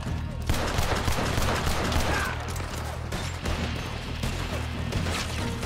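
Rapid bursts of gunfire crackle continuously in a multiplayer shooter video game, dense and loud with overlapping shots throughout, without clear speech.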